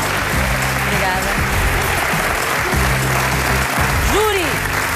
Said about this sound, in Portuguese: Um enorme, salve de palmas para eles, todos.